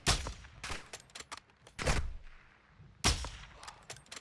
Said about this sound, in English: Who's shooting me from the side?